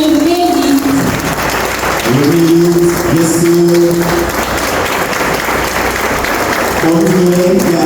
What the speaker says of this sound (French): Pour l'applaudir, levez-vous.